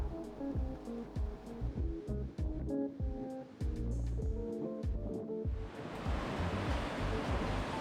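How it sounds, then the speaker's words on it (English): Rough sea surf breaks along the rugged Narooma coastline as a broad, loud wash that rises in after several seconds of tonal music. "the coastline of Narooma is rugged and the seas are very rough while we were there"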